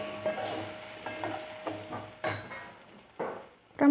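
Masala potato ingredients with garam masala being stirred and sautéed in a pan, a soft steady sizzle broken by repeated scraping strokes of a spoon, close and fairly quiet.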